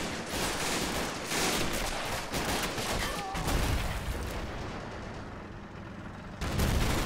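Heavy gunfire in the Normandy '44 World War II shooter game, dense overlapping rifle and machine-gun bursts with distant booms, loud and continuous throughout, with a brief lull before another burst near the end.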